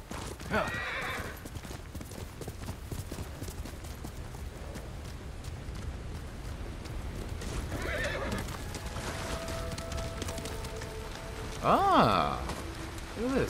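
A horse in the Ghost of Tsushima video game trots with steady clip-clopping hooves and gives two loud whinnies. Soft rain-like patter sits underneath, and someone talks over parts of it.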